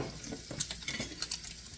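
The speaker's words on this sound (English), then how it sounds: "I'm frying up the bacon." Bacon sizzles and crackles in olive oil in a pan for sautéed liver, Portuguese style, a quiet steady fry with soft scraping and stirring clinks from a utensil.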